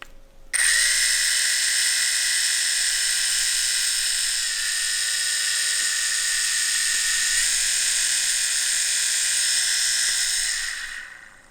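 A freshly greased tattoo pen motor runs in a steady, high-pitched electric whine for about ten seconds, with slight shifts in pitch, close up, then spins down.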